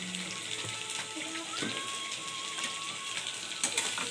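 Chopped onions and garlic fry in a pan while being stirred, giving a steady hiss and sizzle with scattered scraping clicks throughout.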